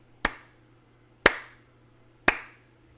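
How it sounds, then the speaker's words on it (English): Three sharp, evenly spaced hand claps, each about a second apart, sound close and crisp in a quiet room, made to sync camera audio. "Then what you do is you clap 3 times, like this."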